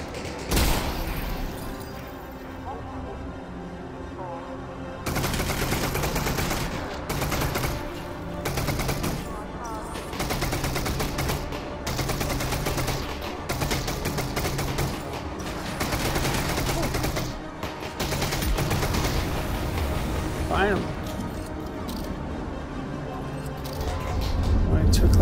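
Video game gunfire rattles in repeated bursts and volleys across a busy, dense game soundscape. A player talks intermittently over it.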